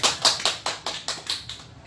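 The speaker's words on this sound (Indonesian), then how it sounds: "Mari kita sama-sama tepuk tangan dan aplaus untuk Ibu Nurhayati." A short burst of audience clapping for Ibu Nurhayati at a parenting module session, a handful of crisp, evenly spaced claps fading out over about two seconds with no voices.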